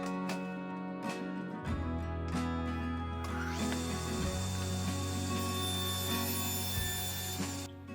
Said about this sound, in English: we're going to go over to the table saw and we're just going to rip this down to about 7 inches wide